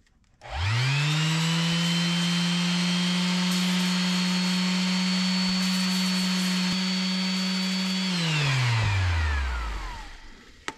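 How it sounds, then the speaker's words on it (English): A Makita sander with a worn base plate spins up with a loud steady motor whine, holds for about seven seconds, then winds down smoothly as it coasts to a stop. "If you find your Makita or possibly other brand sanders spins like that ferociously"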